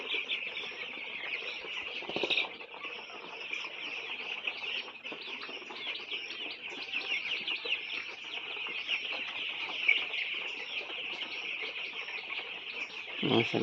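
A large flock of about 1,500 white broiler chicks, twelve days old, chirps continuously in a long poultry shed, a dense, steady chorus of high peeping with no pause throughout.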